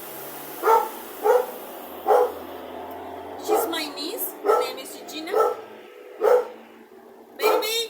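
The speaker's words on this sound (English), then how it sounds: "And if you hear also in the background this dog barking," A dog barks repeatedly in short bursts, close by, while someone talks over it; some barks come in quick pairs.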